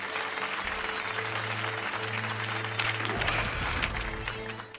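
Applause called for during a Twitch streamer's live broadcast, a steady wash of clapping alongside low music tones, growing denser and louder toward the end.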